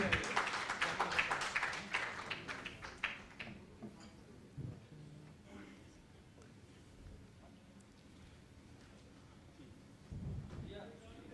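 Loud audience applause welcoming a guest at a live public discussion event, dense clapping for a few seconds that fades out, leaving faint room noise and scattered talk.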